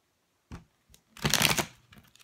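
A brief riffle of stiff tarot cards, a couple of light taps followed by a denser crisp flurry of card shuffling, close and fairly quiet.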